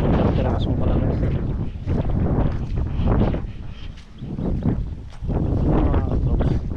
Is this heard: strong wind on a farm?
yes